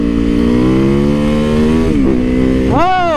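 A supermoto motorcycle's engine drones loudly and close while riding, holding a steady pitch before dipping and rising again through gear changes, with a voice over the engine noise.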